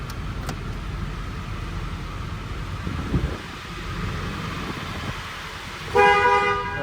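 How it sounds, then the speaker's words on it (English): Horn of a Ford F250 Super Cab short-bed 4x4 pickup with a 7.3L Powerstroke, a single loud steady honk near the end over outdoor wind noise, preceded by faint handling sounds. "There's the horn."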